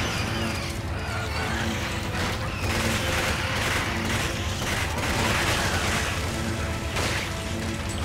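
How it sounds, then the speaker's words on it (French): Video game machine-gun fire in Resident Evil 5: dense, continuous rattling bursts with short pauses, fairly loud and up close, and no talk over it. "D'abord mitrailleuse."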